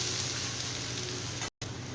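Adai dosa made with wheat rava sizzling steadily on a hot pan just after being flipped, a continuous close frying hiss with a brief dropout near the end and no talk.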